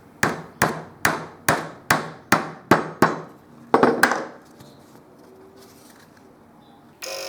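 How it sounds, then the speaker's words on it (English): Eight sharp metallic hammer blows drive a pin through holes in two plates in a steady rhythm, followed by a couple of heavier strikes, then quiet handling noise. "Hammer a suitably sized pin through both holes to secure the plates."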